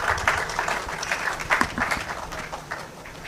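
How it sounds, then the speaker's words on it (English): Audience applause at a PIAC technical workshop on declining crude oil production as the chairperson, a professor emerita, makes her way up. The clapping is broad, dense and steady, close and fairly loud, easing off toward the end with no talk over it. "Please, let's clap for her as she comes."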